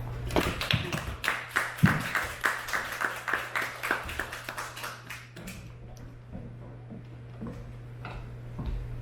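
Audience clapping to welcome a speaker to the podium at a lecture event, a sparse rhythmic patter of individual claps over a steady hum, tapering off and stopping after about six seconds.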